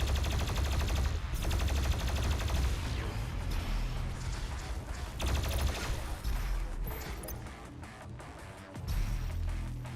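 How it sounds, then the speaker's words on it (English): Shotgun blasts in the video game Doom Eternal, heavy repeated booming shots amid a dense, loud barrage of combat noise that continues throughout, with no talk. "This shotgun is sort of weak compared to the one we get later."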